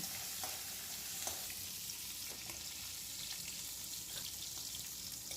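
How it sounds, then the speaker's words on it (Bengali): Prawns frying in a pan with salt and turmeric give a steady, close sizzle with light crackle, continuous throughout with no voices. "নুন হলুদ দিয়ে চিংড়ি মাছটা হালকা করে ভেজে নেব"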